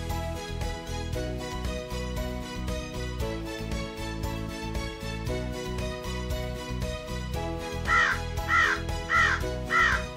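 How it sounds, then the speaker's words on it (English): Four harsh, croaking raven calls ring out near the end, evenly spaced over steady background music. "Raven"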